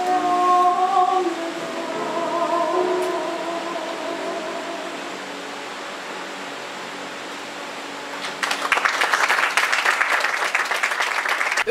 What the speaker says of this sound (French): Que d'applaudissements et admiration au rendez-vous des deux cultures